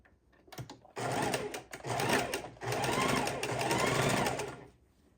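Sewing machine stitching quilt pieces together, its motor whirring in a few close bursts that start and stop, with a longer steady run at the end and no voices.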